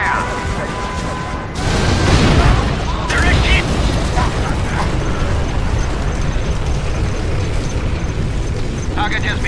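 Heavy bombing explosions in the video game Command and Conquer Generals, a dense, loud rumbling barrage with repeated booms and crashes rolling on continuously.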